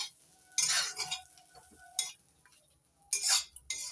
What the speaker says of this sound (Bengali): কাঁকরোলের সঙ্গে নারকেল কোড়া নাড়াচাড়া করে একটু ভেজে নিচ্ছি।